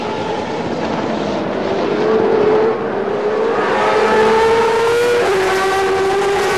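A1GP open-wheel race cars on the Shanghai circuit, high-pitched engines screaming and rising through the gears as they pass, loud and sustained with overlapping cars and shifting pitch.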